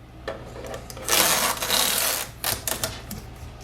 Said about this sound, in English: First we will remove the protective tape.